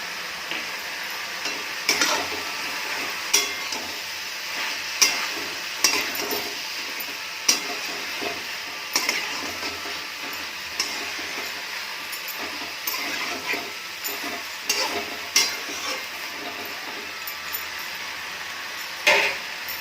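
Chopped tomatoes stirred into a frying corn and mixed vegetable curry: steady broadband sizzle with repeated sharp scrapes and clinks of a spoon against the pan, moderately close, no talking.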